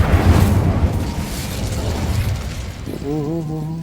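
An Incendio fire spell cast in Hogwarts Legacy on PC gives a loud rushing, crackling burst that fades into a noisy roar, followed by a short melodic chime near the end.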